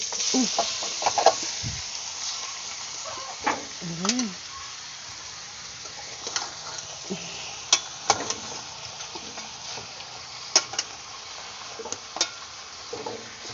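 Pork leg (pata) going into a pot with onion, star anise and bay leaf for paksiw, giving a steady close sizzle with clanks and stirring scrapes, and a voice talking now and then over it.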